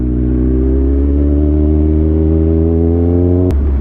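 A motorcycle engine under way on a ride, a loud, steady drone with strong low harmonics holding an even pitch, then a brief clack near the end as the tone shifts.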